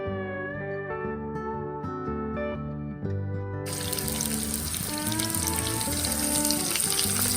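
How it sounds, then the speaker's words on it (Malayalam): Virgin coconut oil heats in a pan with fenugreek seeds and curry leaves, crackling and bubbling, and the sizzle swells to a loud, dense hiss partway through. "അതിലേക്ക് ഉലുവ കറിവേപ്പിലൊക്കെ ഇട്ടിട്ട് നമുക്കൊരു ഹോട്ട് ഓയിൽ ചെയ്തെടുക്കാം."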